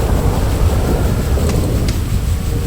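Heavy rain with rumbling thunder in GTA V, a loud continuous wash of downpour with low rolling rumble throughout and a couple of faint sharp crackles.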